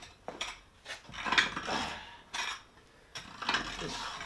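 A four-tine rake scrapes through loose moulding sand on a floor in a few separate gritty strokes, close by, with a faint metallic scrape on each pass.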